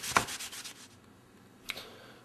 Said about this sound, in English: You don't want to sand too deep down in there